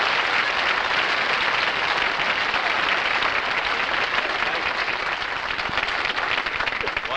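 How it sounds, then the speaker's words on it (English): Studio audience applause greets the host of a live television variety special, a loud, dense, steady wash of many hands clapping that holds evenly for about seven seconds with no voices over it. "You can applaud a little bit if you want."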